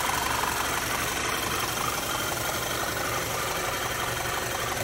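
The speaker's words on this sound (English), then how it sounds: "Engine is back." A car engine idles steadily after a turbo underboost repair, its air box refitted and hose reconnected; a continuous even rumble with slight knocking texture, close and unbroken, with no one talking.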